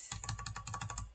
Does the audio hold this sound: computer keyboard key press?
yes